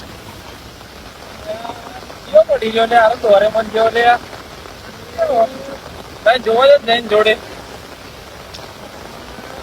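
Steady rain hisses continuously in the background while people talk in short outbursts over it.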